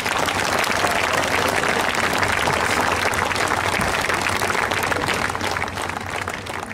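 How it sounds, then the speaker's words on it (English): An audience claps steadily for award winners gathered on stage at a school award day in Doha, the dense applause loud and continuous before tapering slightly at the end. "a big round of applause to all of them"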